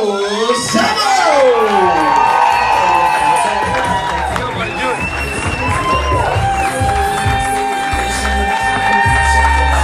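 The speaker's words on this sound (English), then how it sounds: "Big round of applause for Joe Samo!" A comedy club audience in San Diego applauds and cheers a stand-up comedian: loud, continuous crowd clapping with whoops and shouts, with music rising underneath.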